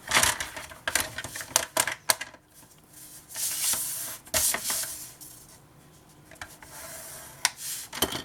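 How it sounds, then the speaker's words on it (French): A tool scores a fold line across paper for a vintage interactive scrapbook album. Repeated scratchy strokes and taps come in uneven bursts, close and fairly loud, with longer rasping drags in between. "Et puis, je vais me faire une ligne de pliure."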